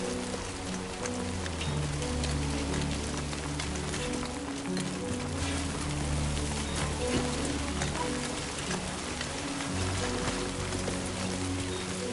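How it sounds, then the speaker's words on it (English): Rain falls in the video game Death Stranding 2, a steady, even hiss of downpour running throughout beneath layered game music. "Great. Rain."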